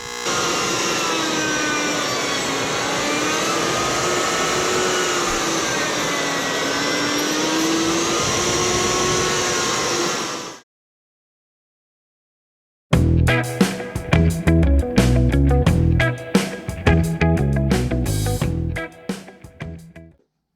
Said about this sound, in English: We've cleaned both sides with the sled.